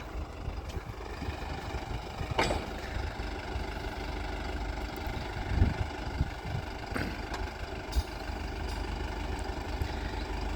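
A New Holland 5630 tractor hitched to a 32-disc harrow idles with a steady low diesel rumble, punctuated by a few metallic clanks and knocks, close by and without speech.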